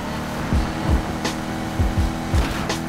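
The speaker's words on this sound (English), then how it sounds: "Top end of that McLaren is ridiculous" A McLaren's engine in Need for Speed Heat roars under acceleration, a steady loud drone punctuated by several quick downward-sweeping gear-shift dips spaced across the stretch.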